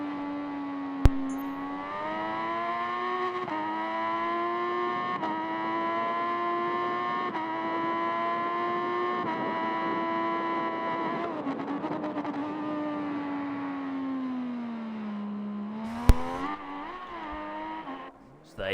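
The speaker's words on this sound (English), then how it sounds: "We do like the MV, the 3-cylinder engine. It sounds so nice." Onboard at Cadwell Park, an MV three-cylinder motorcycle engine howls steadily at high revs through a practice lap, its pitch shifting with gear changes and dipping briefly before climbing again; loud and close throughout.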